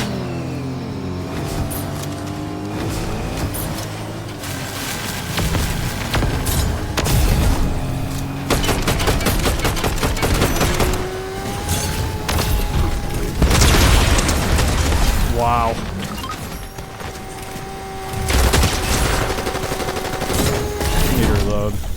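Shotgun blasts and other gunfire in Fortnite Zero Build mode, loud booming shots fired in bursts and clusters over a busy backdrop of game effects.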